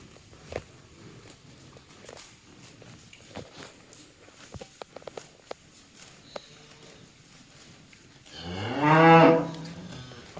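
Soft tearing and chewing sounds of cows grazing pasture with scattered footsteps, then a single loud, drawn-out moo from a cow close by near the end.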